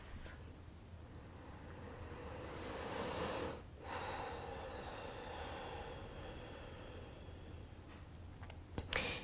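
Slow, deep yoga breaths, a long airy rush of inhaling that swells then cuts off, followed by a steady whooshing exhale, close and soft.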